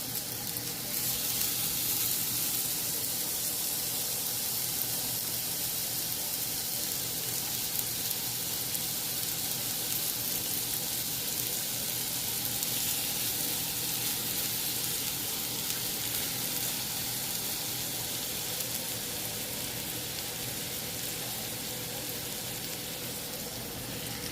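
Hearty steaks fry in a pan with a steady, even sizzle that holds at the same level throughout, with no voices over it.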